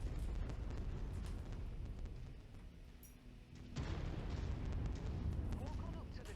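Ammunition cooking off on a mech in MechWarrior 5, a dense rumbling roar of explosions that dips briefly and then surges back, loud and continuous throughout.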